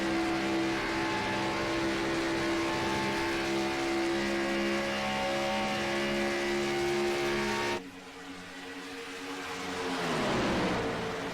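Stock Gen-6 Cup Series race car engines, a Mustang and a Camry among them, drone steadily in a video game race at Atlanta Motor Speedway, a loud sustained roar that cuts off abruptly and then swells back up.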